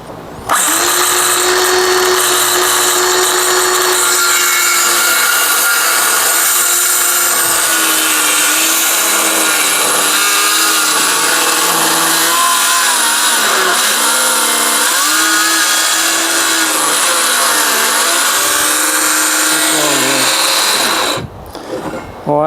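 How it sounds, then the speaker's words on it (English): Power saw cuts steadily through a new interior door being trimmed to size, a loud, sustained whining buzz with shifting pitch that runs almost the full length before stopping abruptly near the end. "I'm gonna saw from this other side over here."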